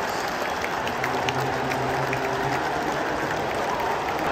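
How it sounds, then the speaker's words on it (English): Rangers football fans applaud inside a stadium after the Europa League final against Eintracht Frankfurt, a broad, even wash of distant clapping from a large crowd that holds steady throughout. "Claps from the Rangers fans."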